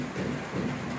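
Steady rain falling during monsoon weather at a house under construction, a continuous broadband hiss with low rumbling undertones, fairly loud and unbroken across the short stretch, no voices.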